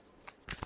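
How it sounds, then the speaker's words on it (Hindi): A short final shuffle of a tarot deck: a few brief, crisp card flicks close by, with no talking. "Last shuffle."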